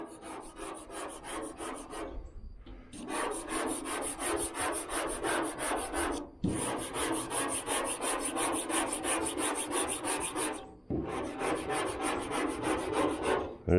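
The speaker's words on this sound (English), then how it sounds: "I got a better razor blade scraper here." Razor blade scraper scraping rust off the body of a 1978 Nova, long rasping strokes repeated in three extended passes with brief pauses between, close and steady.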